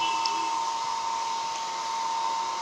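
A hair dryer blows steadily while hair is being set, a constant close whooshing hum with a high whine that runs unbroken throughout.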